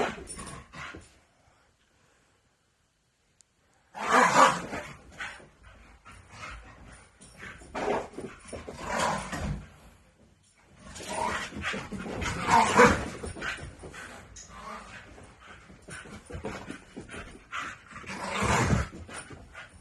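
Two dogs at play, a shepherd-type dog and an older Staffordshire bull terrier, panting, yipping and giving small whimpering growls in close, scrappy bursts, with a quiet gap near the start.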